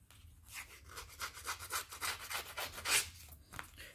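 Paper is scratched repeatedly to distress it for a scrapbook album, a quiet, close series of rhythmic rasping strokes with brief pauses between them.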